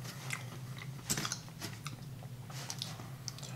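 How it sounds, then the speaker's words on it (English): Crisp, close crunching and chewing of Gery cheese crackers, with a cluster of sharp bites followed by softer, quieter mastication, no talk. "It like crunches and it's got a good texture."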